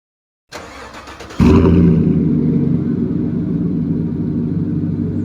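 A Silverado truck engine cranks and fires up, settling into a loud, deep, throaty idle through a Borla ATAK dual aftermarket exhaust, close and steady.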